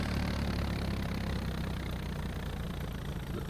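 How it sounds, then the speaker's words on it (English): A vehicle engine idles beside a farm field with a steady, close, low rumble that holds level throughout. "Turn the engine off"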